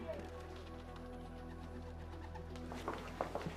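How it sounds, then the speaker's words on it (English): Pigeons near a rooftop in Beijing give soft, faint cooing calls toward the end, set against a steady low hum of city background noise. "This got to be where all the birds are flying to."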